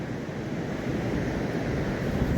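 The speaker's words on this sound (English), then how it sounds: "The noise you can hear is actually the sea." Sea surf rolling onto a beach at night during winter shore fishing for cod, a steady broad wash of breaking waves with some wind noise on the microphone, continuous and fairly close, with no voices.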